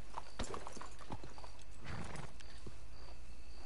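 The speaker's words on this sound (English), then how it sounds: "I would like to hitch my horse" Horse hooves clip-clop in Red Dead Redemption 2, a few scattered steps close by with a brief whinny over a constant background hiss.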